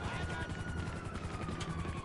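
Helicopter rotors in a video game thumping rhythmically in the distance beneath a constant whine, with faint bursts of other game noise.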